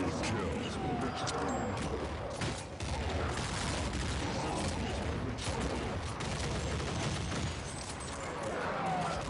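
Rapid gunfire bursts in Counter-Strike Nexon zombie mode, played with the Blood Dripper weapon: a dense, continuous fusillade of in-game shots filling the whole stretch, with a player talking over it.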